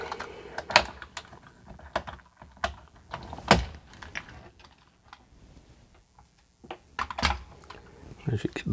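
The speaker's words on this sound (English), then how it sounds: "So I guess the next thing for us is to start pulling some of these keys." Keycaps are pried off a Commodore 64 keyboard, giving sharp irregular plastic clicks and snaps in scattered bursts close by, with soft handling noise between them.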